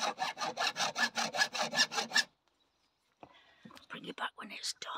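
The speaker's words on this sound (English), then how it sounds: "Nearly through. I think this saw blade's a bit blunt." Hand saw with a blunt blade cutting through an inch-and-a-half hose pipe, a run of about ten regular rasping strokes up close, then a pause before softer handling noises and quiet talk.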